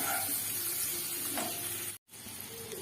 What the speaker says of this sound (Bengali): এই তেলের মধ্যে আমি অ্যাড করে দেবো সেদ্ধ করে রাখা আলুগুলো। আলুগুলো একটু তেলে নেড়ে চেড়ে নিয়ে